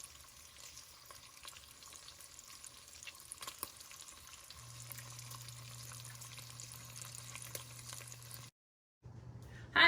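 Bacon fries in a Pampered Chef Rockcrok Dutch oven, giving a faint, steady crackle and a low hum. The sound cuts out briefly near the end.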